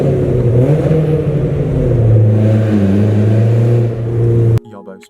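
BMW E36 with a sports air cap and catback exhaust with back box and shotgun tips, revving steadily with a rising and falling droning note for several seconds, close and loud, before cutting off abruptly near the end.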